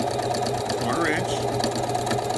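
A sewing machine stitches a quarter-inch seam through pinwheel quilt fabric, a steady mechanical whir running continuously under a talking voice.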